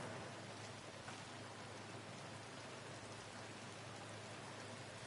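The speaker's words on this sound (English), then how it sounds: "And now it's raining." Steady, even rainfall hisses continuously in the open world of Red Dead Online, a faint, unbroken wash of drops with no speech.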